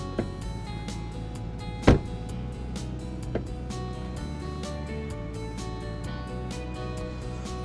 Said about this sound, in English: Here's the sound of the front door.